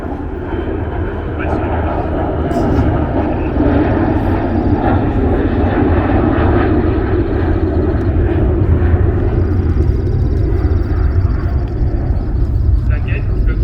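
A fixed-wing airplane passes overhead near an Alaskan riverside village museum, a loud, steady engine roar filling the whole stretch, with people talking faintly beneath it.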